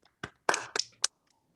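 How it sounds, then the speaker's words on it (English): A few people clapping for poets during an online reading, scattered sharp claps and taps heard close, in brief separate bursts over near silence. "have people give a round of applause to our two"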